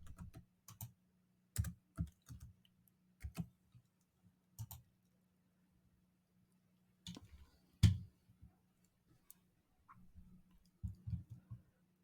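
A computer keyboard being typed on while writing HTML, in short bursts of close, crisp key clicks with quiet pauses between them.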